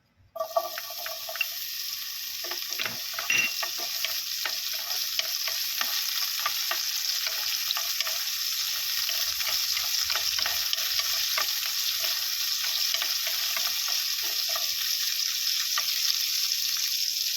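Onions sizzle steadily in a hot pan, a continuous bright frying hiss with scattered scraping stir strokes and small clinks, close and loud throughout with no talk.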